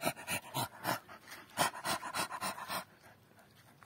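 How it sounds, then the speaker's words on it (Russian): A dog pants hard and rhythmically outdoors in a forest, about a dozen quick close breaths in a steady beat that fade out toward the end. "Это ты так дышишь, Хорита?"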